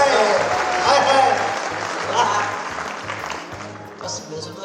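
An audience at a crowded late-night Hindi poetry recital claps in a dense, sustained burst that gradually thins out, with a voice speaking over it.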